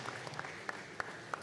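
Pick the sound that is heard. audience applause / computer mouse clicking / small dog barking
audience applause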